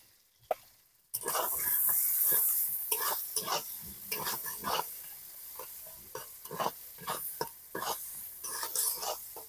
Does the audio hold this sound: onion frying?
yes